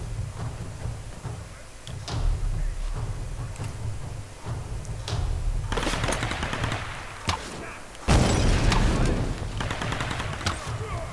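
Video game gunfire in Tomb Raider, rapid automatic bursts and scattered shots that swell louder in the second half, with excited shouting and talk over the action.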